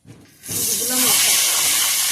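A fish head dropped into hot oil in a kadai, starting a sudden loud hiss that settles into a steady close sizzle, with a brief voice just before.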